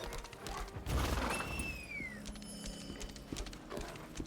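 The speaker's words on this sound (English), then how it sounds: "Those guys are riding horse lions." Horse-lion mounts gallop in the video game Lost Ark, with thudding hoofbeats and a whinny-like cry over game ambience and a rising sweep tone.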